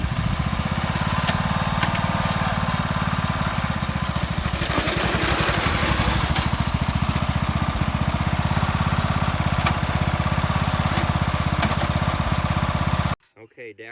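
A homemade racing lawnmower engine runs loud and steady, close by, with a rough, buzzing drone that holds nearly unchanged throughout before cutting off abruptly at the end.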